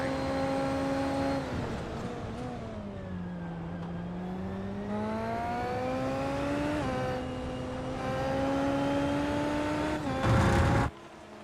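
An SF23 open-wheel race car in a sim racing game at Hockenheimring screams through its gears, a loud, close engine whine rising and falling with shifts, ending in a short burst of noise.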